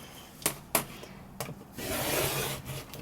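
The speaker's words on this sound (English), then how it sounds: "Take your ruler and your rotary blade and let's cut around that, leaving a little excess." A rotary blade slices through quilted potholder fabric along a ruler, giving a few sharp close ticks followed by a soft rasping drag across the cloth.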